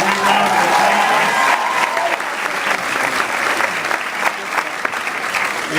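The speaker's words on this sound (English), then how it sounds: "Give Charnel a big round of applause" A crowd at a political campaign rally applauds steadily, a dense wash of clapping that starts loud and slowly eases, with faint voices mixed in.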